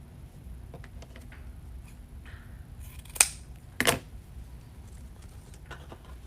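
Scissors snip twist ties for a spring wreath, two sharp close cuts over quiet room tone with faint handling sounds.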